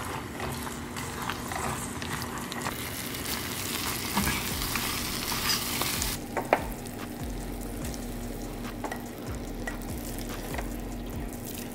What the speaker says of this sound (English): once it's boiling, we pour this in